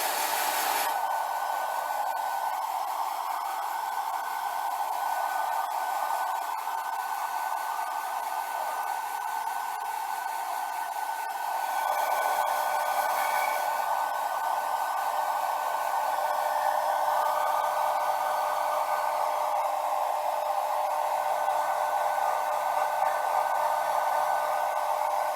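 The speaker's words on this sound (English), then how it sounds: "So I'm gonna keep hitting it with a blow dryer." A blow dryer runs continuously at close range, drying fresh paint on a small 3-inch Hush Batman action figure, a steady loud whooshing hum that shifts slightly in pitch midway through, with no talking.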